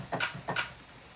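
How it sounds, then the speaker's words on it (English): A layered clap sample made for a hip-hop beat, heard alone as two crisp double-hit claps in quick succession, followed by fainter echoes. "Second one's a layer on the main clap that sounds like this."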